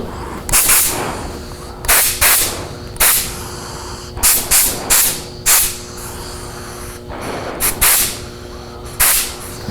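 Short hissing bursts from a spray gun spraying clear finish onto metal, fired in quick irregular pulses with brief pauses between, close and fairly loud.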